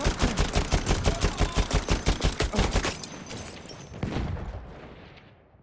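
A steady, rhythmic stream of machine gun fire in a video game, loud and close for about three seconds, then fading into echoing distant shots and a single boom that trails off.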